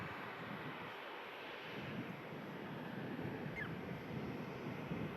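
A Ryanair airliner passes overhead at Manchester Airport, a faint, steady broadband jet roar with wind-like hiss that holds evenly throughout, distant and continuous.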